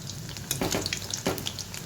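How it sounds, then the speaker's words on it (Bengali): Chicken pakoras fry in hot oil in a pan, giving a close, steady sizzle with a few sharp crackles and spatula scrapes. "দেখো ভালো করে ভাজা হয়ে যায়"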